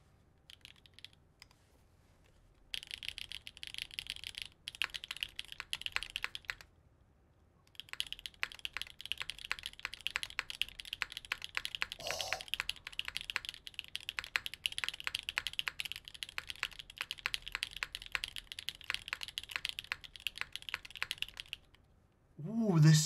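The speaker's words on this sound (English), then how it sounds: "The mic is now pointed at the keyboard" Typing on a mechanical computer keyboard with the microphone aimed at it, rapid close clacking in long bursts with short pauses in between.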